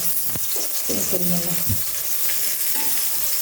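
Eggplant frying in hot oil in a pan for a fish and eggplant curry, heard as a steady close sizzle with a few clattering stirs and thumps; a faint voice murmurs briefly in the background.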